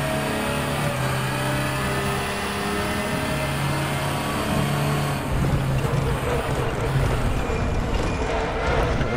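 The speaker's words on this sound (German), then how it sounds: "Wir müssen uns gleich auch mal unbedingt den Begrenzersound anhören." Audi R18 TDI race car in the RaceRoom racing game at the Nürburgring GP circuit, its engine droning steadily with sustained tonal hum, roughness rising in the second half as if held against the rev limiter; a voice talks briefly.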